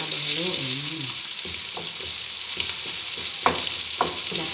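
Onions frying in a pan after tomatoes were added, for an ampalaya dish: a steady hiss of sizzling with a string of spatula scrapes and knocks, a brief voice-like tone at the start.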